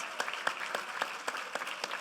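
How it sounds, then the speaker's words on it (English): A small audience at a county Teacher of the Year celebration claps for the event organizers. A few hands beat in a light, even rhythm of distinct claps, sounding fairly faint and distant. "So let's give them a big round of applause."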